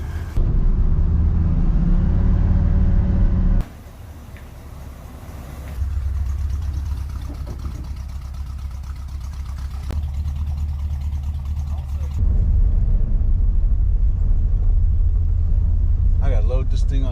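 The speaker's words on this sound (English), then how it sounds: "I'm gonna go take it for a test drive." An El Camino's engine runs on a test drive, a steady low rumble that shifts in level as it drives, continuous and fairly loud inside the car.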